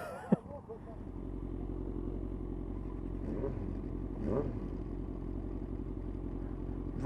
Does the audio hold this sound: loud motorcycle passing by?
yes